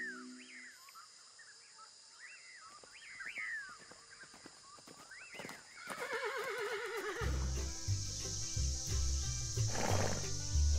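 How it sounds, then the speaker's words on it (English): Horses neigh and whinny repeatedly in rising, quavering calls that carry clearly over an outdoor ambience. Later the calls give way to a denser, louder mix of rumbling and bird-like sounds. "Horses."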